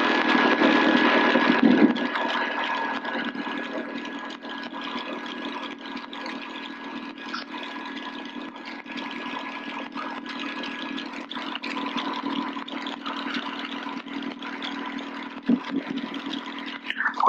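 The rotor blades of a Robinson R22 helicopter spin down after landing, a steady, continuous whirring engine drone that holds at an even level for a long stretch with no voices.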